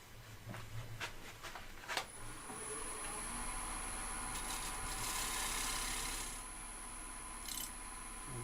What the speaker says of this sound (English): we're going to really drop the handle as we scrape across